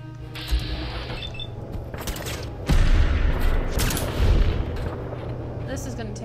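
Gunfire in Fallout 4 comes as loud repeated shots and mechanical clatter over a steady game background, with a couple of heavier blasts midway, while a player talks over it.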